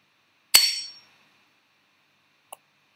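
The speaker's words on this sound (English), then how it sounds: "Click to hammer the chisel and split the calcite." A single sharp metallic strike of a hammer on a chisel splitting calcite, ringing briefly and decaying, followed two seconds later by a faint small clink, otherwise silent.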